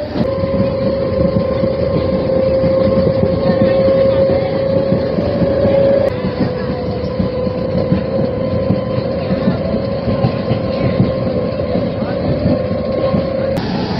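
A DEMU local train runs at around 100 km/h on a Tiruchirappalli to Madurai route, a steady loud rumble with a sustained motor whine, heard from inside the carriage.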